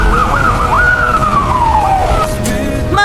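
An ambulance siren wails loudly and close in a cartoon scene, its pitch sweeping up and then gliding down over a constant traffic-like rumble.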